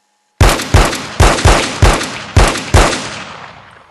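Seven sharp, loud .45 caliber gunshots crack in quick succession, each ringing with a reverberant tail that fades out after the last shot, with no voices.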